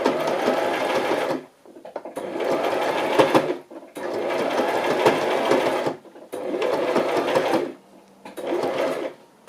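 A sewing machine stitches zigzag around the edge of a lace wedding journal cover, running in five close, steady bursts separated by short pauses.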